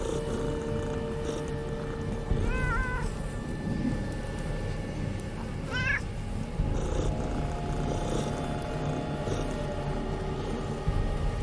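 A cat in the video game Underrail lets out two short, high, warbling meows over a steady, loud buzzing drone that sounds like a purr.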